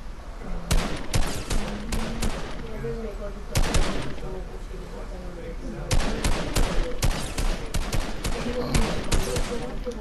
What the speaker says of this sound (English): I shot a guy 3 times in the turbine for 22.